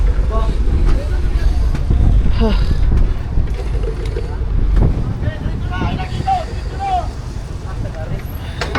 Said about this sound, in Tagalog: Grabing lakas ng alon.